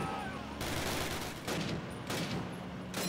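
Bursts of gunfire in Call of Duty 1, the WWII Airborne D-Day mission, crack out in three loud sustained volleys separated by short gaps, with dense battle noise throughout.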